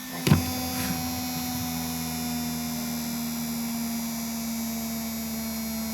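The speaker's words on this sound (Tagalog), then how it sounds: "Electric fan." Steady electric fan motor hum running alone at an even level after a brief click at the start.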